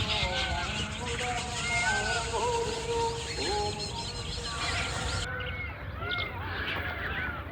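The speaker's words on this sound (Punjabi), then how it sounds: "ਵਿੱਚ ਹੀ ਮੋਰ ਬੋਲਦੇ ਆ" Peacocks call in a hilly forest beside a dam, sounding as repeated nasal, wavering cries amid other birdsong over a steady, fairly loud outdoor background.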